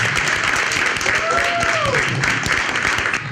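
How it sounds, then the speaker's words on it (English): An audience at a Twin Cities show applauds a guest, a thick wash of clapping heard alongside a voice talking over it and a brief whistle-like tone. "Give her a round of applause"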